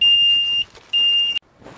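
A Howo four-axle 380 HP Euro 5 dump truck from 2019 gives a loud, steady, high warning beep while raising its bed: two long tones separated by a short gap, close inside the cab.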